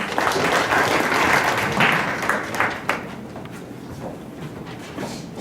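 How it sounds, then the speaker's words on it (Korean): Audience applause at a startup forum in Korea as a lawyer is welcomed to give a five-minute legal talk, dense steady clapping that gradually thins and fades over several seconds. "박수로 모셔보겠습니다."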